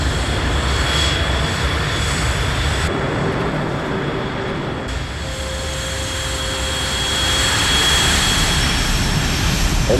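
A jet fighter in the video game Ace Combat: Assault Horizon taxis to the runway, a loud sustained turbine roar and whine that holds steady and swells slightly near the end, without talk.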